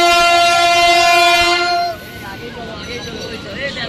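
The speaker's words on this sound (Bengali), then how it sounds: "তো এইদিকে ট্রেনও চলে এসছে।" A local train pulls into Panagarh station with a loud, sustained horn blast that cuts off midway, followed by the rumble of carriages rolling close by amid crowd noise on the platform.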